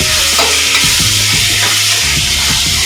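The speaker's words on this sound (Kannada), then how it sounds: "ಟೊಮೊಟೊ ಚೆನ್ನಾಗಿ ಫ್ರೈ ಆಗಬೇಕು" Chopped tomatoes frying with ginger and garlic for a fish curry, a loud steady sizzle filling the pan while a spoon scrapes and stirs in repeated knocks.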